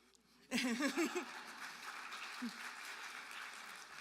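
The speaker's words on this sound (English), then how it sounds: "We'll be sure to pass along your applause to Andrew" Applause breaks out suddenly from a college awards ceremony audience, swelling quickly, then settling into a steady, moderately distant clapping, with a few voices cheering at the start.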